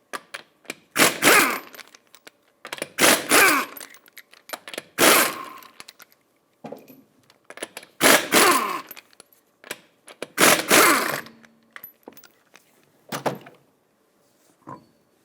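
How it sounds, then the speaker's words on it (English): Socket work on the lug nuts of a 2003-2008 Toyota Matrix wheel: a series of short, close mechanical bursts of ratcheting and clanking separated by pauses, ending with a few lighter knocks. "Use a 21mm socket, remove all 5 lug nuts, and then remove the wheel"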